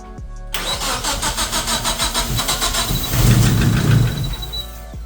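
A turbocharged 4G15 Mivec car engine cranks with a rapid rhythmic churning, catches, and rises into a louder rev before settling, heard close and loud.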